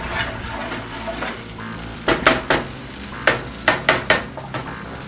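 Onions cooking in a pan on the stove, a soft steady sizzle under a few sharp clinks and scrapes of a utensil against the pan, close and moderately loud.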